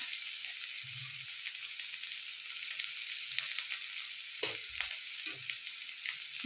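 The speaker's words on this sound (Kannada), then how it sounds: "ಇದನ್ನ ಚೆನ್ನಾಗಿ ಫ್ರೈ ಮಾಡಿ 1 ನಿಮಿಷ" Chili powder masala with softened tomato and grated coconut fries in a pan, a steady close hiss with occasional low stirring knocks and scrapes, no talking.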